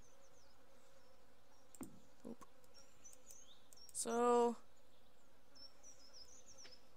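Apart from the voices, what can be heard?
bees buzzing at a bee house, from video game Stardew Valley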